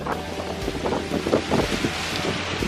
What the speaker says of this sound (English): It should block the wind.